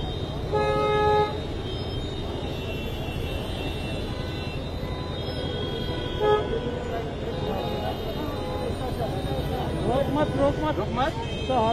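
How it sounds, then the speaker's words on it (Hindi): Vehicle horns toot repeatedly in dense Mumbai street traffic during a crowded funeral procession, short honks over a constant traffic rumble, with people talking and calling out nearby. "रोक मत तो हॉर्न देना"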